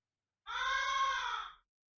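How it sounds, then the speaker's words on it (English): A crow caws once inside a video game, a single harsh, drawn-out call lasting about a second, loud and close with nothing else around it. "Crow sounds."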